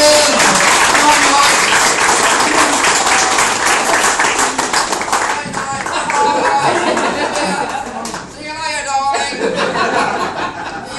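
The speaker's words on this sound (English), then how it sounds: "nice round of applause for Arthur Lager." An audience at a tweetup event claps in a loud, sustained burst of applause, mixed with chatter and chuckles, fading slightly toward the end.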